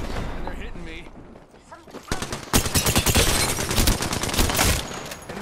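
Rapid bursts of gunfire from the battle royale shooter Apex Legends, dense overlapping volleys that swell after a brief lull and keep crackling loudly through the rest of the stretch.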